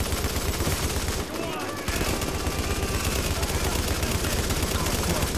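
Sustained rapid automatic gunfire from a weapon in The Division's Dark Zone, continuous and loud with a brief pause partway through, with a player's voice speaking briefly over the shooting.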